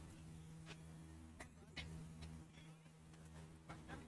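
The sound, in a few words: bees buzzing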